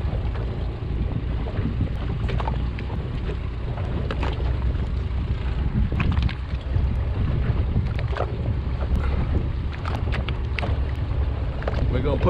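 A fishing boat's engine runs in forward gear off Cape Charles, Virginia, as a steady loud rumble mixed with wind and water noise, with voices in the background.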